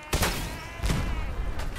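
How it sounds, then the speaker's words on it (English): Explosive shotgun blasts in Fallout 4, three loud booming shots spaced roughly evenly, each with a sharp crack and rumbling low tail. "let's try my explosive shotgun"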